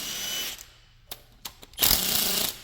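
A strong Milwaukee power impact gun loosening a bolt on a damaged 5.3 engine: a few short rattling bursts, then a longer, louder whirring hammer burst close by.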